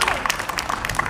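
Brief scattered clapping from a concert crowd at a Batak music show, moderately loud with irregular individual claps over a low background.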